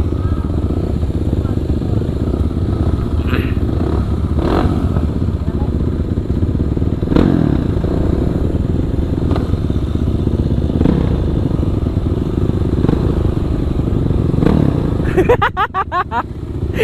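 A Kawasaki KLX 450 supermoto motorcycle rumbles loudly at close range in traffic at a red light, its engine running continuously under scattered talk with a brief clatter near the end.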